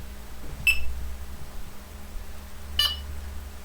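A Txi-D carp fishing bite alarm set to its slowest beep speed gives two separate high electronic beeps about two seconds apart, clear and close over a low steady hum.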